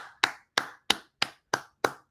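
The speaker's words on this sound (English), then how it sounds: "I think we should clap for Tevin." Clapping in a university lecture room comes as six sharp, evenly spaced claps at a steady rhythm, close and crisp, with short silences between them and no talk over them.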